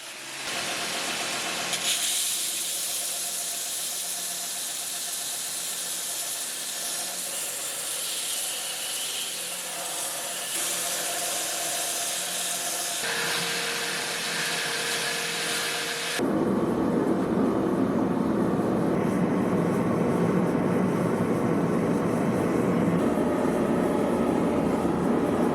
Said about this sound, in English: Next, we're going to take this over to the grinder and we're going to clean up the profile and the edges